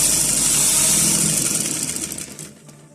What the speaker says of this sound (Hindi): उसके बाद ये आप इस तरह सिलाई लगा दें।